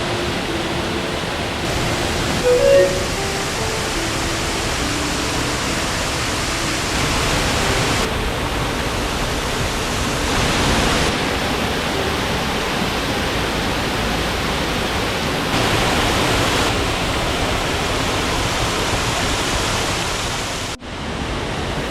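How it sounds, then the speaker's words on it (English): Roaring waterfalls in Ricketts Glen State Park give off a loud, unbroken rush of falling water that fills the whole scene. "the falls are literally deafening here"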